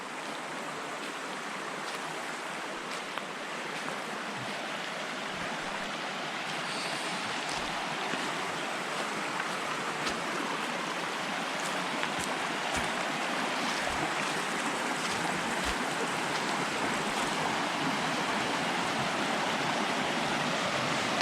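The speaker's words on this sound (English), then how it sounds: "Here's the other waterfall." Steady, broad rush of a waterfall on a brook, continuous and full throughout, with no voices.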